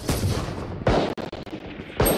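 Several sharp gunshots in the tactical shooter Valorant during Jett gameplay, each a punchy, close crack with a quick decay, fired in separate shots spaced about a second apart.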